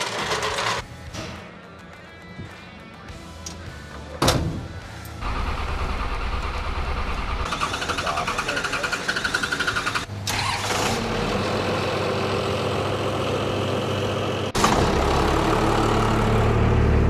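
A modified RatBack truck engine cranks and fires after a few short attempts, then settles into a loud, steady rumbling idle that continues to the end.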